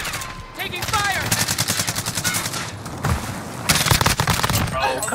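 Gunfire in Call of Duty Warzone, with loud automatic bursts that rattle on and off and grow heavier toward the end, while players talk.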